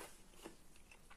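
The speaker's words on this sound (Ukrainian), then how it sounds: "Перець хрумтить." Bell pepper crunching between the teeth while eating a meat salad with black radish, a short run of close, crisp bites in a quiet room.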